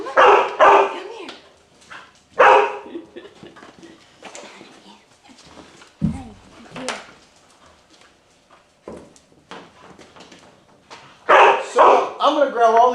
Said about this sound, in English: the dogs are excited she's home